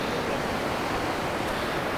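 Ocean surf washes up on a Florida beach at New Smyrna, a steady close wash of broadband water noise with no talk.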